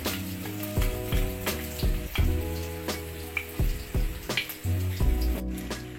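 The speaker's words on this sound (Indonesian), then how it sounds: "panaskan minyak goreng sedikit untuk menumis sayurannya" Shallots sizzle in a little hot cooking oil amid clattering stirs and scrapes of a utensil against a pan, with intermittent knocks.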